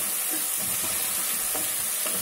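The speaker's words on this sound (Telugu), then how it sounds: "ఇవి కూడా పచ్చివే కాబట్టి వేయించుకుందాం. ఆయిల్లో వేస్తే బాగుంటుంది." Raw green peas frying in oil in a pan for pulao, a soft continuous sizzle with a few faint stirring scrapes, fairly quiet and with no voices.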